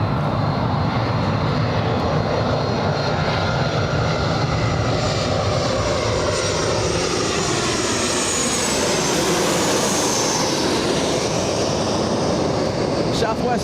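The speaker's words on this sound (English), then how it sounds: "So we just saw one takeoff." A jet airliner takes off at Los Angeles International Airport, a loud, steady engine roar that fills the whole stretch with a slowly shifting whine, heard from a distance and unbroken throughout.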